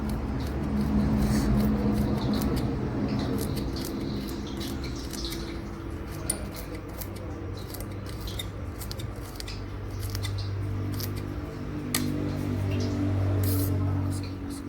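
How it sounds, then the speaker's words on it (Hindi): A knife finely chops carrot on a board for veg Manchurian, making a steady run of quick, close, light cutting clicks under ongoing talk. "इसको हम बारीक बारीक काट लेंगे जितना भी हो सके"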